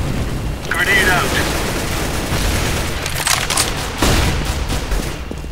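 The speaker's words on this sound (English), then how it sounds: "There's a guy shooting shit." Rapid gunfire bursts from the shooter game CS:GO, loud and dense, with a grenade blast feel near the four-second mark, under steady overlapping player chatter.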